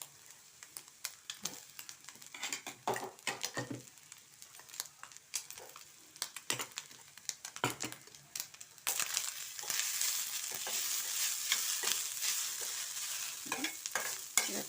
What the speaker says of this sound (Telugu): ఇలా పచ్చిపోయే వరకు వేయించుకోవాలి. చప్పుడవుతుంది కదా